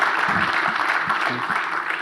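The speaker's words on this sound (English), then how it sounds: "let's have a round of applause for that" An audience at an urban planning panel event gives a round of applause, a dense, loud wash of clapping that fills the short moment, with some talk mixed in.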